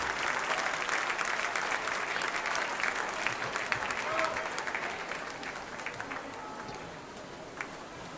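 Sustained audience applause fills an indoor swimming pool during a junior women's 100 m butterfly heat at a memorial swim meet, dense and steady throughout, easing slightly toward the end with faint voices underneath.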